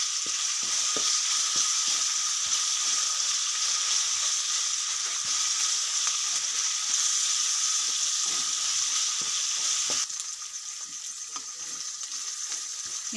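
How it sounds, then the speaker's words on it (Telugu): Ginger garlic paste fries in a hot pan for okra fry, a steady loud sizzle running throughout with soft scraping and tapping of a spoon as it is stirred. "అల్లం వెల్లుల్లి పేస్ట్ పచ్చి వాసన అయ్యేంత వరకు ఇలా కలుపుకోవాలి"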